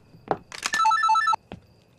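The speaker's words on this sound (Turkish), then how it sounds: "Telefon çalıyor." A telephone bell rings in a short burst of rapid trilling tones, clear and close, framed by a couple of faint knocks before and after.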